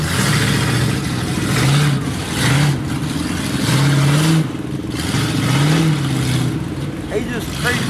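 A Toyota engine revs at a race in a series of rising and falling surges, loud and fairly close, with people talking over it.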